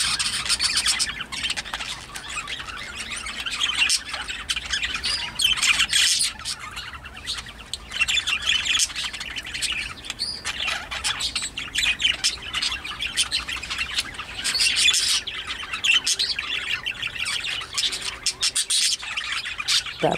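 Pet bird, part of a breeding pair, squawks and chirps relentlessly and loudly throughout, close up, with harsh repeated calls and a faint rubbing or rasping texture underneath; no talking.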